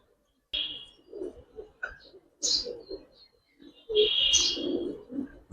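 Giribaz pigeons coo at a farm, several soft throaty calls in bursts from nearby birds, with brief higher chirps between them and no talking.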